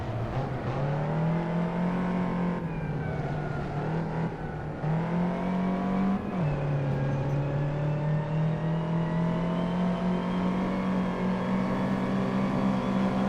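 Classic Ford Mustang racing car lapping Silverstone circuit, the onboard engine note droning loud and steady with pitch dips and swells as it shifts and accelerates through corners.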